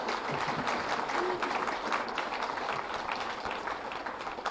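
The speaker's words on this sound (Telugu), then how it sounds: "గట్టిగా చప్పట్లు కొట్టుకుందాం" An audience at a spiritual talk breaks into steady applause, a dense, even wash of clapping that fills the room for a few seconds.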